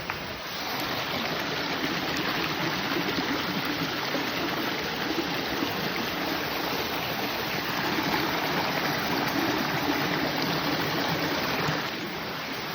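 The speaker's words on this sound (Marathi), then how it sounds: "असा धबधबा आहे" Steady, dense rushing of falling water fills the whole stretch, a constant broadband roar with no voices.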